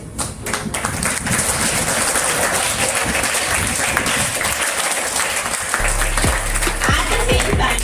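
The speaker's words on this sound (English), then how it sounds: "Huge round of applause for all the winners." Sustained applause from a crowd at a student election results announcement, dense clapping filling the clip with a few louder bursts near the end.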